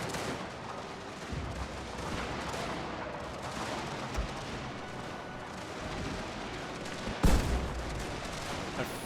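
Cannon and musket fire from a Prussian army battle in a real-time strategy game: a continuous dense rumble of distant volleys and booms, with one louder nearby blast standing out toward the end.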